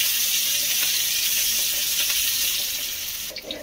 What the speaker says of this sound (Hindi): तो का ऑयल हो गया हमारा गर्म, इसमें ऐड कर देंगे हम 1 स्पून जीरा, और ले रहे हैं हमें अदरक लहसुन